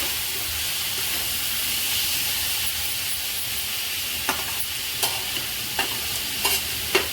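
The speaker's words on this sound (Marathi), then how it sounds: "त्याला मी चांगलं परतून घेतलं" Ghevda bean pods being stir-fried in a pan for a dry Marathi-style bhaji, giving a steady low sizzle with a few sharp clicks of a spatula stirring against the pan toward the end.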